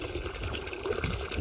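Water poured into containers outdoors, hauled from a distant source, makes a steady, continuous splashing gush with a soft background hiss throughout.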